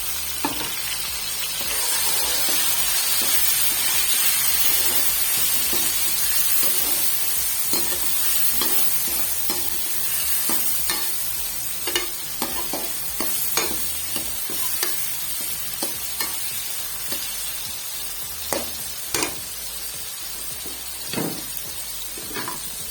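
Tomatoes frying in spiced masala for sarson ka saag, a steady loud sizzle with repeated sharp scrapes and clinks of a spoon stirring against the pan throughout, growing more broken toward the end.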